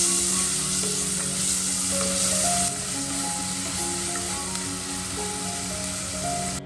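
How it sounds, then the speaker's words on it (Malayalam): Marinated chicken shallow frying in oil in a pan, a steady close, loud sizzle with crackling spits running throughout and easing slightly partway through, no voices. "ഇനി ഇത് ഓയിലൊന്ന് ജസ്റ്റ് ഷാലോ ഫ്രൈ ചെയ്തെടുക്കാം."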